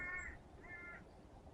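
Two harsh calls from a crow in Dean's Woods on a warm spring day, spaced about half a second apart, moderately distant over quiet ambient woodland background.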